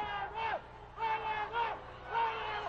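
Wrestling arena crowd at a lucha libre show chanting for Volador in a rhythmic repeated call, four loud swells of massed voices echoing through the hall.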